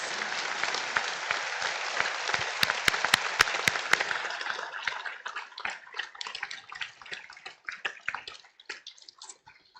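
A room full of people at a graduation ceremony claps steadily, and the applause gradually thins out into scattered individual claps before fading.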